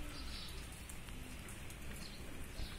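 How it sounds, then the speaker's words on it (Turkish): Steady rain falls outdoors beside an anthill, a soft, even patter of drops on surfaces that stays faint and constant throughout, with no voices. "Şu an yağmur yağıyor."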